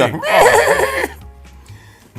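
A horse gives one loud, close, wavering whinny lasting about a second, then a quieter stretch with a brief low thump near the end.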